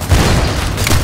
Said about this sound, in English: What kind of explosion is that?